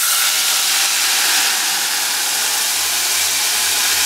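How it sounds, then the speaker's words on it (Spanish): Mole dissolved in chicken broth is poured into hot oil and sizzles loudly, a dense, steady hiss that continues unbroken for several seconds, close up, with no talk. "cuando esté bien caliente vamos a agregar lo que es el mole previamente disuelto en caldo de pollo"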